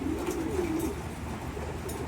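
Racing pigeons in a loft give one short, low coo near the start, followed by soft ambient background noise.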